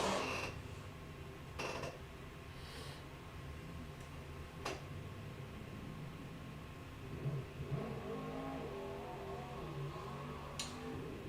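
A sprint car engine at a Caithness Car Club hill sprint on the Golspie Littleferry layout revs and pulls with a motorbike-like note, holding a steady mid-distance drone with brief sharp bursts.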